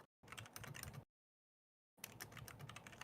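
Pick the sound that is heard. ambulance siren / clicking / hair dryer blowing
clicking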